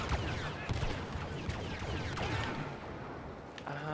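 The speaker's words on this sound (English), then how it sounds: "Pulse cannon to the face." Pulse cannon fire in the Star Wars Battlefront video game: repeated sharp blaster shots and zapping bursts in quick succession over dense battle noise.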